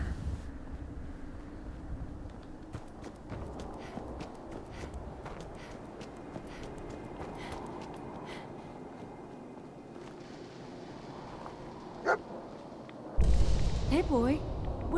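Storm wind blows steadily in Fallout 4, a broad constant rush with scattered crackles and thumps beneath it, ending in a louder gusty swell.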